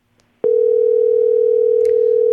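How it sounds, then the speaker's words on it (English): A phone call goes unanswered, and a steady ringback tone starts abruptly after a moment of quiet and holds without a break to the end. A faint click sounds near the start. "I don't know why Alice isn't answering the phone."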